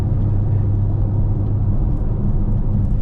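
A murdered-out 600 hp BMW M4 Competition holds a steady, loud, deep engine drone under load, a continuous low rumble with no voices.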